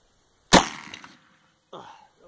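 A single sharp crack from a Marlin 1895 classic lever-action rifle in 45-70 with a 22-inch barrel fires outdoors, decaying over about half a second, followed by a brief quieter rustle.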